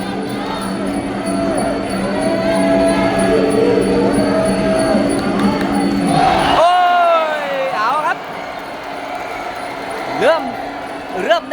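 A crowd cheers at a Muay Thai title fight in Rajadamnern Stadium, a sustained roar of voices and whoops rising and swelling, with a commentator talking over it throughout.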